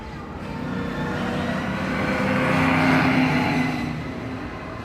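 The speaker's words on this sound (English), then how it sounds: "I will try to get a glimpse of the cars going by" Ride vehicles pass by at Disney California Adventure's Guardians of the Galaxy Mission: Breakout area, a broad motor rumble swelling and fading over a few seconds amid crowd ambience.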